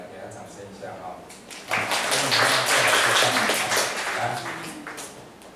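An audience breaks into applause for a student, a burst of many hands clapping that swells quickly, holds, then tapers off, with a voice talking before and over it.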